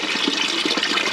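Water gushes from an opened outlet downstream of a water softener into a bucket, a loud steady rushing splash with a slight bubbling churn, close and continuous.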